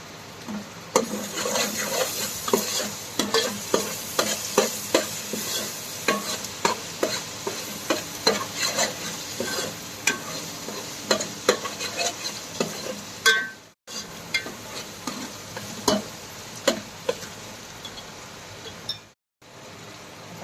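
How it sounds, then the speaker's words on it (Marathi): Onion-garlic paste fries in butter for pav bhaji while a spoon stirs in a rhythmic run of scrapes and clinks over a soft sizzle, interrupted by two brief silent gaps. "तीन चमचा पण कांदा लसूण पेस्ट टाकलं"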